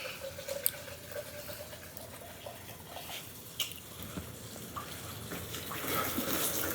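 Water runs from a tap as a steady, fairly quiet wash with light patter and small splashes, heard alone with no talking.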